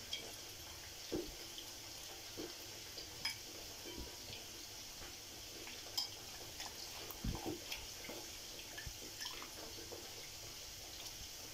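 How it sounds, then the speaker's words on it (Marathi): Hand-squeezing water out of soybean chunks soaked in hot water for soybean dum biryani: faint wet trickles and splashes with scattered drips over a steady background hiss, no talking. "ते आता आपल्याला असे संपूर्ण त्याचं पाणी काढून टाकायचं आहे मुठीत धरून"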